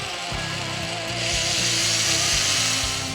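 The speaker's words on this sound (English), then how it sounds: "Let's drill into a Les Paul." A power drill bores into a Les Paul electric guitar body, a loud steady whine with rising pitch and strain through the cut, alone without talk.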